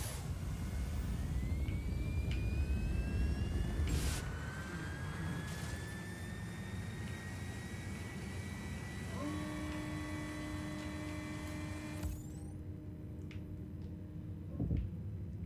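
A jet aircraft engine roars in Just Cause 4, a steady loud whooshing drone with a rising whine that settles into a sustained hum, alone without talk.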